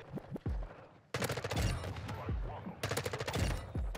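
RPK machine gun in the Modern Warfare 2 video game, firing loud rapid bursts in two long stretches separated by a short quiet gap, with isolated thumping shots and deep impacts around them.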